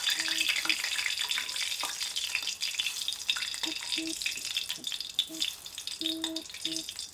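Hot oil tempering sizzles and crackles into handvo batter, a close, continuous frying hiss with occasional faint clinks and a voice murmuring softly.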